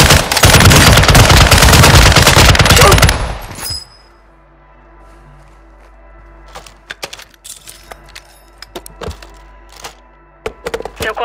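Call of Duty Warzone 2.0 gunfire: a dense, loud automatic burst for the first few seconds, then scattered sharp shots and clicks at lower level.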